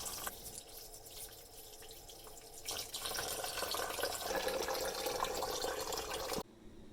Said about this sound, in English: wash them under running water